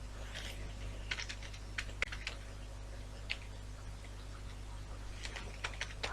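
Typing on a computer keyboard while designing an event certificate: scattered light key clicks in short bursts over a steady low hum, close and fairly quiet, with no talking.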